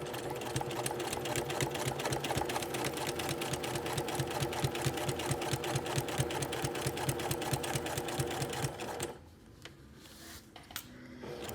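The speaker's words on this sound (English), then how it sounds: "we'll begin by going in reverse, just until I drop off the top edge of the pocket" A sewing machine runs in reverse while edge stitching a shirt pocket near the fold, its needle hammering in a fast, steady mechanical rhythm for about nine seconds before it stops abruptly, leaving quiet handling noise.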